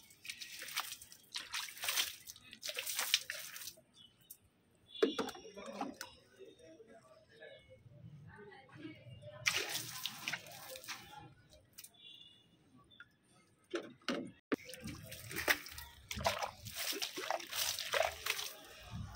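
Water sprayed in a shower over potted hibiscus plants as a pest treatment, coming in bursts of splashing and pattering with quieter gaps between them.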